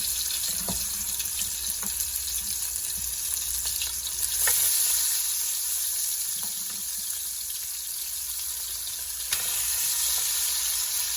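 Goat meat fries in a pot for a curry goat dish, giving a continuous loud hissing sizzle with occasional soft clinks and stirring sounds.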